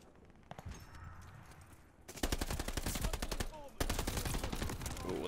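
Rapid bursts of gunfire from a Sten submachine gun in the shooter Call of Duty: Vanguard, loud and dense, after a quieter start with a few isolated shots, a second volley kicking in partway.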